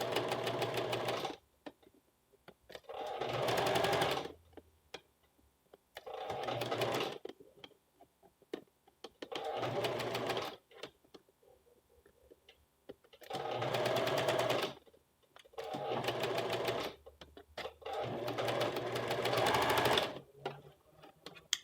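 A sewing machine stitches a western blouse yoke with piping in repeated bursts of running stitches separated by short pauses, close and fairly loud.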